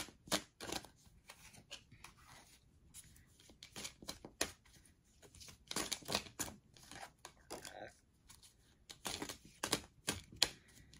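Tarot cards being shuffled and handled during a reading, with quick dry riffling and rapid papery slaps in uneven bursts, close and fairly quiet, with pauses between bursts.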